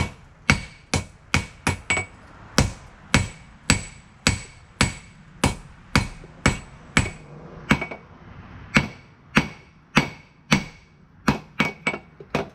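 Sharp, ringing hammer blows strike a hot patch knife blade being forged and thinned, roughly two per second in a steady run of about two dozen loud, close impacts with brief decays between them.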